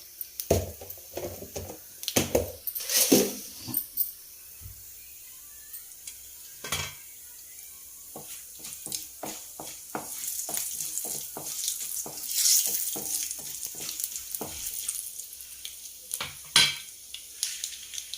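Mustard seeds crackle and sizzle in hot oil for a tempering over a ridge gourd masala curry, with scattered sharp pops, a steady frying hiss and occasional stirring clatters close by.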